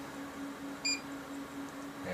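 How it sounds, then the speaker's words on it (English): A multimeter gives one short, clear electronic beep as its leads touch a drone circuit board during an ImpulseRC Reverb quadcopter build, standing alone over a quiet room hum. "If I switch the leads, it's going to beep again."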